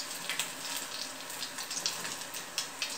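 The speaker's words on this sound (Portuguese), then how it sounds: "Agora a gordura já está mais quente, vai fritar mais rápido." Battered peixinho-da-horta frying in hot fat, with a steady dense hiss of sizzling and a few faint pops, close and continuous, with no talking.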